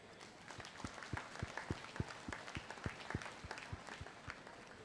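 Audience applause at a cattle show honouring exhibitors, showmen and breeders, heard as a steady patter of individual claps, fairly distant and faint, with no talking over it.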